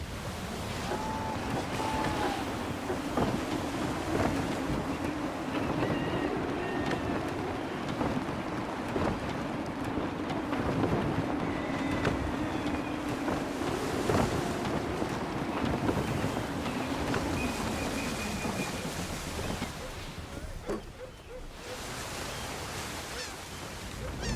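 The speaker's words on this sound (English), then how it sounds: "Wind looks to be shifting. Stay alert, Connor. Gusty winds can be difficult to manage." A sailing ship moves through gusty wind and rolling waves in Assassin's Creed 3, with a continuous loud rush of wind and water and creaks from the vessel, steady for over twenty seconds.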